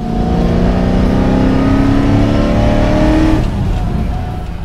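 A supercharged Ford Mustang GT500 V8 engine revs loud and close, holding a high, rising whine for a few seconds before easing off into a lower rumble.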